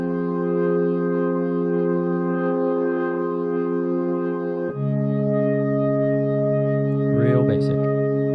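A synthesizer breath pad with a horn-like tone holds sustained chords, shifting to a new chord midway, smooth and loud, with a brief vocal sound near the end.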